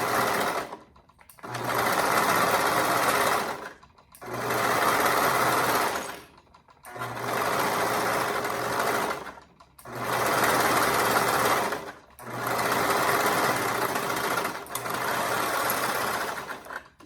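A sewing machine stitches a hoodie seam in six steady runs of a few seconds each, with brief pauses between them. The whirring motor and rapid needle chatter sound close and clear, with no talking.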